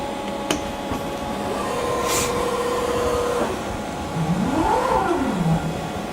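A CNC machine's axes travel back to their home positions, giving a continuous motor whine with a steady tone and then a rising and falling sweep over a constant mechanical hum.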